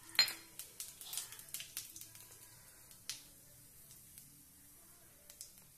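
Cumin seeds dropped into hot oil while making simple veg rice, giving sharp scattered crackles and pops that start loud and thin out over several seconds, with no talk.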